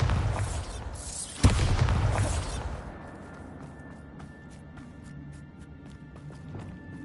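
In the game Hogwarts Legacy, a Bombarda spell bursts with one sharp, loud explosive crack amid rumbling combat noise, then the din settles into quieter ticking and clatter.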